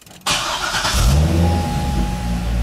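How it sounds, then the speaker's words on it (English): A Chevrolet Corvette with ABS and traction control warning lights on starts up close by: a brief starter crank catches into a loud engine flare, then settles to a steady idle. "Car is off. I'm gonna start it."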